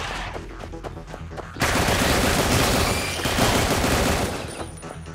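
Gunfire at targets in the video game Gigantic X: dense, loud rapid-fire shots forming a continuous fusillade, preceded by a brief stretch of lighter game sounds before the sustained burst.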